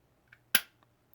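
A single sharp trigger break click from a Smith & Wesson M&P Shield Plus pistol, crisp and close, followed by a faint small click of the reset.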